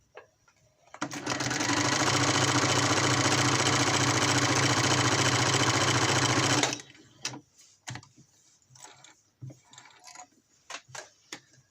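Close and loud, a sewing machine fitted with a plain stitching foot sews lace onto a fabric piece in one steady burst of rapid mechanical whirring lasting several seconds, then stops, leaving light handling clicks and taps.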